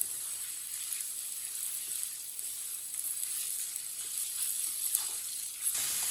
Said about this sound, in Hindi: आलूओं को भी 3-4 मिनट के लिए फ्राई कर लेंगे